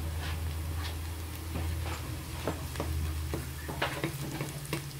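Onions and grated garlic frying in a pan give a steady, dense sizzle throughout, punctuated by light ticking scrapes of a utensil stirring, close and even in loudness.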